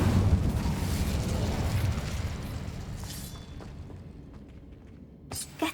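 An Incendio fire spell in Hogwarts Legacy bursts out as a loud, roaring whoosh of flame that slowly fades over several seconds, followed by a couple of faint clicks.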